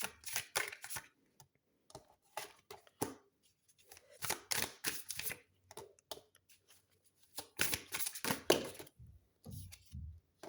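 Tarot cards being shuffled by hand in bursts of quick riffling, flicking rustles, with short pauses between handfuls and a couple of soft taps near the end; close and fairly quiet, with no talking.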